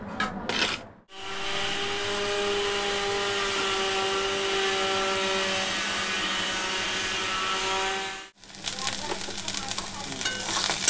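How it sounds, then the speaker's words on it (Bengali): Sliced okra fries in a pan, giving a steady, close sizzle for about seven seconds, bracketed by brief clatter of handling at the start and end. "এখন কেটে নিয়ে এটা ভাজা বসিয়ে দেবো।"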